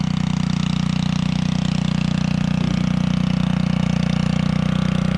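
A homemade fire truck's pump engine runs at a steady, loud idle with an even mechanical drone and no change in pace, with no other sounds over it.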